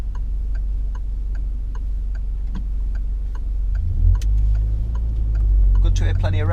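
A car engine hums steadily during a driving lesson on UK country lanes, then rises in two brief revving swells near the end, under faint regular ticking like an indicator.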